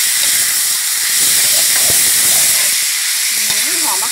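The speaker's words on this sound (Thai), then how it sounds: "ปลาฉลามพร้อมเครื่องปรุงค่ะใส่ลงไปเลย แล้วก็ผัดทุกอย่างให้เข้ากันเลยนะคะ" Shark pieces with seasonings stir-fried in a pan for a Thai dish with galangal and holy basil, giving a loud, steady hiss and sizzle with a few scraping stirs and no voices.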